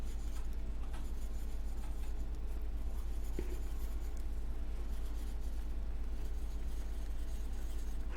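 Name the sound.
drawing a quick sketch on paper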